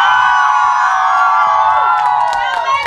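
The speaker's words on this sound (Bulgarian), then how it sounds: "Тук при мен са тези, които преди малко там отдолу от публиката дигаха много шум." A crowd of young people in a seaside resort audience cheer and shout at full volume, a dense continuous wall of high voices and whoops that sustains throughout.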